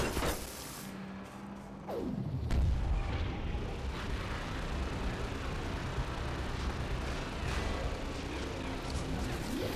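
A rocket launcher fires in a Counter-Strike Source sci-fi mod: a swooping whoosh followed by a heavy boom, then a rumbling explosion tail and later another descending whoosh.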